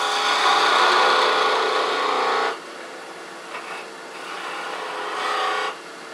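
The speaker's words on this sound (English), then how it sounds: "we're going to get in there with a uh, a detail gouge makes it just a little bit easier and I'm going to turn a little bit of a uh, feature there" Detail gouge cutting wood on a lathe while turning a small pedestal birdhouse: a loud, close, continuous rough shearing hiss for a few seconds, then lighter intermittent cuts with short pauses.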